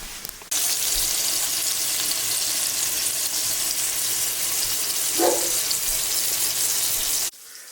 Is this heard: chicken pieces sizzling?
yes